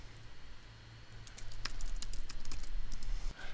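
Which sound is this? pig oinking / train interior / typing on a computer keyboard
typing on a computer keyboard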